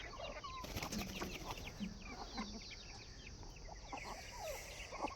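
Backyard chickens cluck and chatter in an irregular, overlapping stream, with soft calls from several birds in a faint outdoor setting and no talk.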